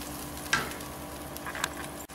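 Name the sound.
curry leaves and coriander kulambu simmering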